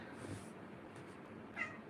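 A house cat gives a soft, fairly faint meow and then a second brief higher cry near the end, indoors, with no talking over it.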